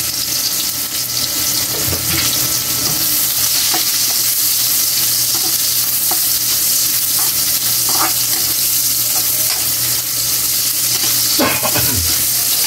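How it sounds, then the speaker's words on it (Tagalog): Red onions hitting hot oil in a pan for a tuna steak dish, a steady loud sizzle with occasional stirring scrapes, no talking. "Ilagay na natin yung sibuyas na pula natin"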